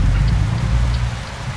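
Rain in the truck driving game American Truck Simulator, a dense, steady patter of drops with a heavy low rumble underneath, continuous and loud.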